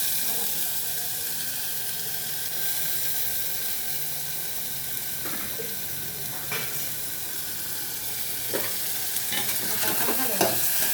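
Potatoes sizzle steadily in a pan with fried onion, while a spoon stirs and scrapes the pan in several short bursts near the end.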